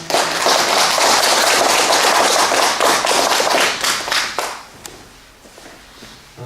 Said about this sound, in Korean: 오실 때 큰 박수로 맞이해 주시면 감사하겠습니다